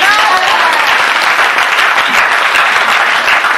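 A church congregation at a Christmas Eve vigil applauds loudly and continuously in praise of the Lord, a dense, sustained wash of clapping from many hands that fills the room.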